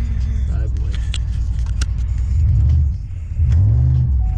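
A 2008 Pontiac Grand Prix GXP engine revs hard in a deep, loud rumble while the car attempts a reverse donut, with swells and a brief dip in the revs under nearby talking.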